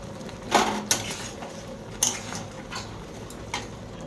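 Mango pickle in a pot is stirred with a few separate scrapes and knocks of a utensil against the vessel, spaced apart over a quiet background.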